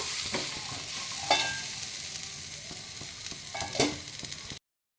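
Minced mutton for shami kebab cooking in a pan, a steady close sizzle broken by a couple of spatula stirs and scrapes, then an abrupt cut to silence.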